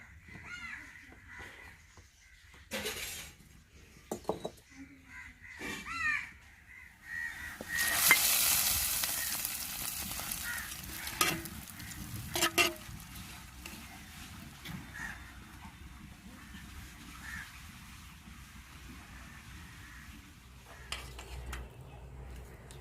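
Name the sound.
tempering spices sizzling in pan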